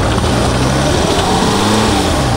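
A Land Rover driving off-road over rocky terrain gives a steady, loud engine drone with a low rumble that carries on for a couple of seconds with no talking.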